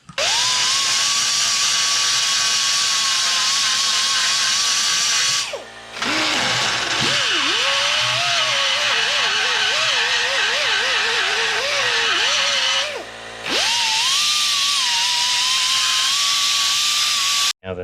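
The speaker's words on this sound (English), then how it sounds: "I'm going to use this die grinder to smooth all these edges off." A die grinder smoothing rough cut edges of metal, a loud high whining spin held steady, dipping in pitch as it bites the edge, with two brief pauses where the tool is lifted and restarted.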